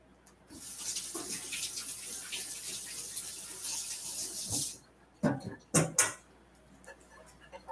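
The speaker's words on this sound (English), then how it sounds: "Wash my hands here." Kitchen tap runs steadily for several seconds while hands are washed in the sink, close and continuous, then a few brief splashes and rubbing bursts as the water stops.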